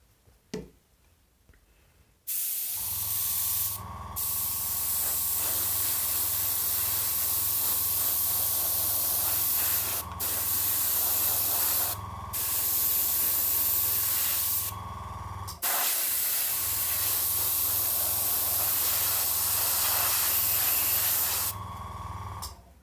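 An airbrush sprays Vallejo Green paint as the final overcoat on a Trumpeter M1131 Stryker FSV model tank, a steady close hiss running in long bursts with brief pauses between passes and a faint ticking underneath.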